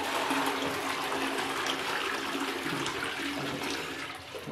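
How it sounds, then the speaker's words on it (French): A toilet flushes during a bathroom renovation just before removal of the old WC, a steady loud rush of water pouring through the bowl for the whole stretch, easing slightly at the end. "Donc là on va couper l'eau, hop, et tirer la chasse pour une dernière fois."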